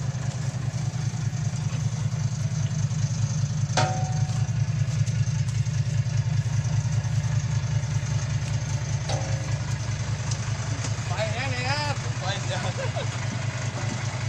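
Tractor engine idling steadily with a low, continuous throbbing rumble at a muddy site where a dump truck is being pulled out, with a voice speaking briefly near the end.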